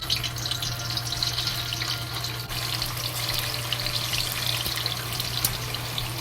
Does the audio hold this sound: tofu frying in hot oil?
yes